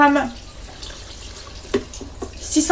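Water poured into a Cookeo multicooker pot holding pasta, a short splashing pour at the start followed by quieter trickles and a few light knocks.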